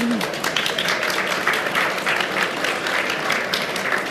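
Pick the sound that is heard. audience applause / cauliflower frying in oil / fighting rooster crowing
audience applause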